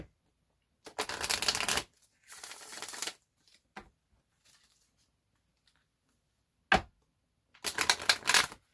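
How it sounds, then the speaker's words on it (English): An oracle card deck is shuffled in several brisk riffling bursts, close and crisp, separated by quiet pauses and small taps as a single card is pulled, with no talk. "I'm going to pull one card out of the angel answers"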